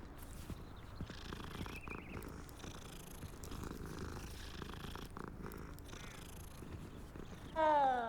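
A cat purrs in the video game Hogwarts Legacy, a steady low rumbling texture running the whole time beneath soft game ambience, with a brief louder chime-like flourish near the end.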